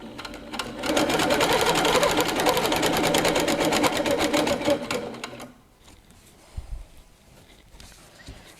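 A Handi Quilter Capri stationary longarm quilting machine stitches in a fast, even mechanical rattle for about five seconds, then stops, leaving faint handling clicks and a soft thump.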